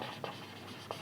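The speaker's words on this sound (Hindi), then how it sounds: "तो हम लोग यहाँ पर लिखेंगे" Chalk scratches across a classroom board during a math lesson, short faint strokes with two brief, sharper taps standing out, quiet and close with no voice.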